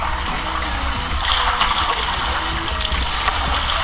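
Cold natural spring water from the mountain pours steadily at a resort, a loud, dense, continuous rush with splashing close by and little else audible.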